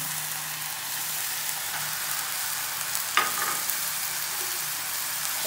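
Ridge gourd frying in a pan for an egg curry, a steady soft hiss of sizzling oil with a single clatter of stirring partway through.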